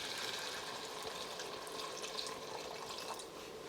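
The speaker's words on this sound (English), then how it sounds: "we already added a 1/4 cup of water. We're going to add another 3/4 cups" Water is poured into a pot of chana masala, an Indian-style chickpea dish. It makes a soft, continuous trickling splash that is quiet and steady for a few seconds, with no talk.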